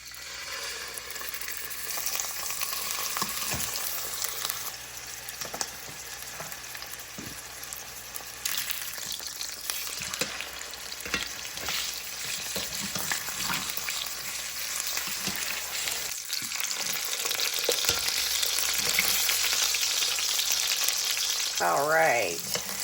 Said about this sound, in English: now we are going to add the pork chops